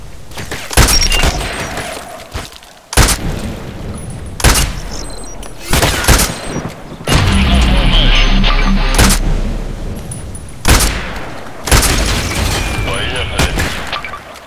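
Sniper carbine fire from the TKPD in the shooter game Contract Wars: sharp, loud single shots cracking at irregular intervals, with a stretch of sustained rumbling gunfire and booms in the middle, and a voice talking between the shots.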